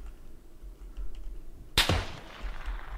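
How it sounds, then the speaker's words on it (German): A single sharp gunshot in a PUBG duo third-person match cracks out abruptly near the middle, loud and close with a brief echoing tail, alone without voices over a low background hum. "der Schuss klang so nach hinter mir"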